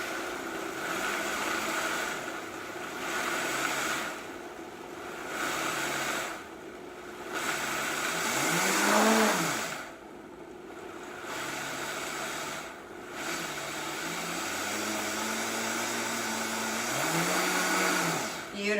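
Blender grinding dry ingredients for gluten-free protein chocolate donuts, a loud motor whine that rises and falls in surges with brief pauses, close up and continuous across the span.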